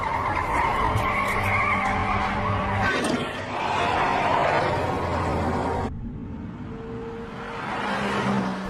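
A car skids during a chase in a horror film, with a loud, sustained tire squeal over a roaring engine that shifts in pitch and dips briefly before rising again.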